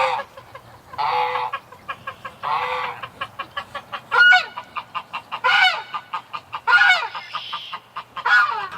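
A male goose and chickens call at a farmyard coop, with loud honks and rapid repeated clucks alternating in bursts, close by and unaccompanied by speech.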